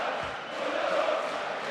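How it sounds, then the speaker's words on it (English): Hungarian basketball supporters chanting and singing in an arena during a EuroBasket game, a steady distant roar of many voices filling the space without breaks. "it's the Hungarian supporters that you can hear at the moment"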